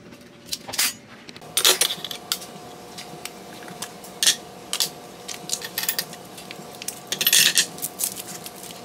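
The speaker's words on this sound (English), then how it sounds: "this is where I sprinkle in the Hondashi and mix it in" Hondashi granules sprinkled and stirred into a bowl for a kamaboko dip, heard as scattered light clinks, taps and scraping strokes at close range with no talking.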